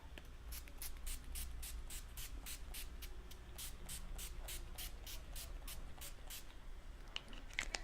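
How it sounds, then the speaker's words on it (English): Rapid bursts of NYX matte finish setting spray mist onto a face, about a dozen short hissing puffs in a steady quick rhythm, close and clear, with no talking. "setting spray powder from NYX"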